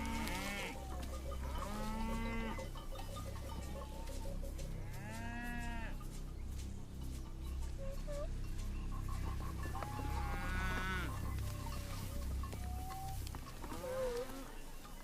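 Herds of cattle lowing in Tanzania's volcanic Ngorongoro region, several drawn-out moos overlapping at varying distances over a busy outdoor background, with no talking.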